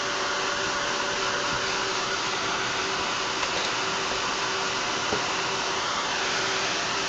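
A hair dryer blows hot air to dry paint on a canvas, producing a loud, steady, close-up whoosh and motor whine that stays constant without a break, with no talking.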